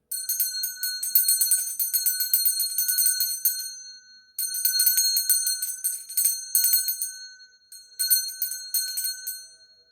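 A small bell rung repeatedly in bright, sustained bursts of shimmering high ringing, three or four rounds with brief pauses between, loud and close with no talking.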